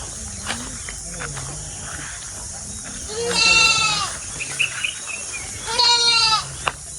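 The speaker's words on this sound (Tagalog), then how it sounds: "Naingay po yung kambing dito." Two loud goat bleats, each about a second long, with a wavering nasal tone against a background of insects and faint ambient noise.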